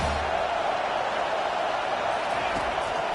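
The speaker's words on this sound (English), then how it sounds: "Big third down as the crowd gets behind this defense." A stadium crowd at an Eagles football game roars for the defense on a big third down, a dense, steady wall of cheering that holds at full strength from start to finish.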